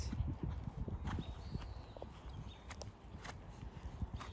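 Ridden horse cantering in an arena during a warmup, hooves thudding in a quick steady three-beat rhythm, moderately close and fairly quiet.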